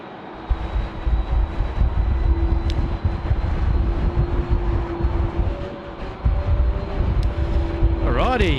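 A Qantas Airbus A380 at Sydney Airport gives a steady, far-off jet roar with a faint whine on top, heard through wind buffeting on the microphone.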